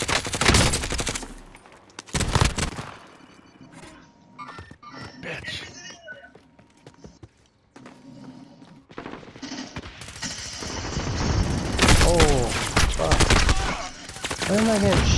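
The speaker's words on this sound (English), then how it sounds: "Where am I getting shot from, dude?" Bursts of automatic gunfire in Call of Duty: Modern Warfare, loud volleys at the start and a long, heavy stretch near the end, with quieter, sparser shots and game sounds in between.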